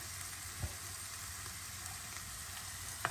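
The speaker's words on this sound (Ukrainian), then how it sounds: "Вершкове масло починає танути." Onion frying in a pan of melting butter gives a constant close sizzle, with a couple of soft spatula clicks.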